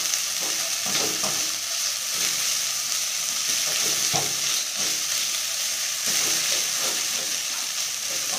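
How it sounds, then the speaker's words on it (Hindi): Diced potatoes stirred and frying in a pan over a flame for egg bhurji, a steady close sizzle with repeated scraping stirs throughout, no talking. "आलू, अच्छे से मिक्स कर लेंगे।"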